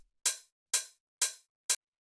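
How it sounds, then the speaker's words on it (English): Sharp open hi-hat sample layer: four bright, hissy strikes evenly spaced with short tails, the last one cut noticeably shorter, each isolated in silence. "more of like a sharp open hi-hat type of sound"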